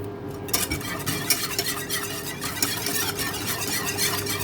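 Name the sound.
whisking a mixture in a bowl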